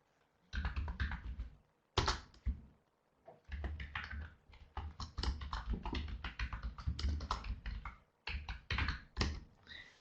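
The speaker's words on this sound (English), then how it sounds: "I'm typing something different." Quiet, close keyboard typing in irregular bursts of rapid key clicks, separated by short pauses.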